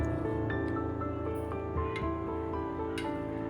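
Boiled dal simmering in a pan while being stirred, giving soft wet bubbling and squishy, dripping sounds with light clicks of the spoon. The sound is close and continuous throughout.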